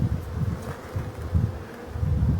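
Steady, dense buzzing of many black honeybees close by at a hive, a low droning hum that swells and fades slightly in pulses with no voices.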